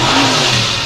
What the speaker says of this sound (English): There's a loud car right there.